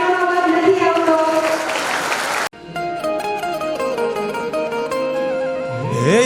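Applause from the audience at a school's annual festival for a guest, mixed with a voice and music for a couple of seconds before cutting off sharply as a song begins.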